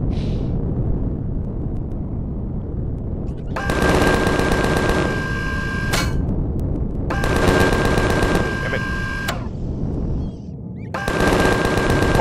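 Turret gunfire in the space game Empyrion, three long rapid bursts separated by pauses, loud over a low rumbling background.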